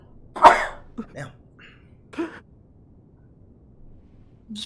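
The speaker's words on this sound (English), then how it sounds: "It's perfectly timed cough." A single sharp cough bursts out close to the mic, followed by a few quieter throaty sounds and brief bits of voice against near silence.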